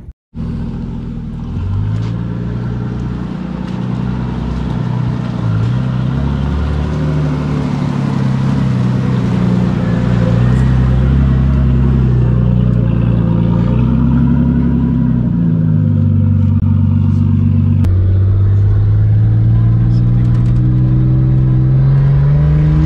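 Nissan Patrol Y60 fitted with a swapped Nissan Skyline RB25 turbo engine, idling and revving loudly up and down in steady rising and falling sweeps for over twenty seconds, close by with no talk.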